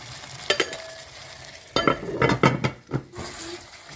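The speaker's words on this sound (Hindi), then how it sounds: "अब इसको कवर कर जब तक ये टमाटर गलेंगे तब तक इसको कवर कर हाई फ्लेम पर पकाइए।" Tomatoes cook on high flame in a pot for Hyderabadi tomato shorba, with a soft sizzle, scattered spoon-and-pan clinks and a few short bursts of stirring.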